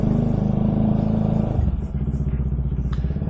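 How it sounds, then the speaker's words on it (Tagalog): Motorcycle ridden through a rainy midday, a steady close engine drone that drops in pitch as it slows, with wet road hiss and light clatter throughout. "Motor-motor pa din kahit maulan"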